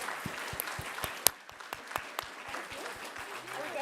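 Applause after a civic engagement panel: scattered, moderately close hand claps from a modest crowd, with distinct individual claps standing out and voices talking underneath.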